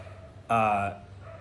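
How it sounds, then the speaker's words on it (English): A dog outdoors gives one short, loud bark over a quiet background. "even the dog outside agrees with me right now"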